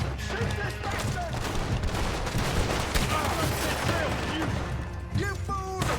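Gunfire in the Red Dead Redemption 2 video game, a dense, sustained volley of shots and impacts crackling without pause over six seconds, loud and close, with a burst of shouting voices near the end.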